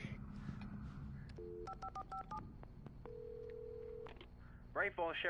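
In the video game Alan Wake Remastered, a telephone is dialed with a quick series of touch-tone beeps, followed by a longer steady tone. Low background ambience runs underneath, and a voice begins speaking at the very end.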